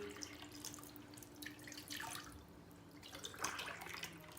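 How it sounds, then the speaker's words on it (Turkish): Water, five glassfuls, is poured into a cooking pot to start a sugar syrup for Turkish şekerpare dessert, a steady splashing rush with brief louder surges, close and alone. "5 su bardağı su ilave ediyoruz."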